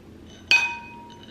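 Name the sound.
glasses clinking in a toast with eggnog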